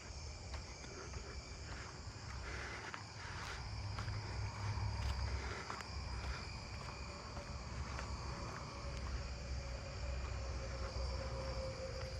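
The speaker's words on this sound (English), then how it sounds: "I can hear the narrowing tree crickets all around me." Narrowing tree crickets chirp all around in a suburban neighbourhood at night, a layered, steady chorus of soft trilling pulses at close to middle distance, with faint low rumble and occasional soft rustles underneath, and no talking.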